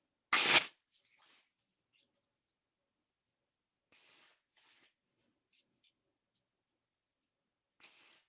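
A single loud burst of tarot cards being shuffled right at the start, close and brief, followed by a few faint soft rustles and taps of the cards in an otherwise quiet room, with one more light shuffle near the end.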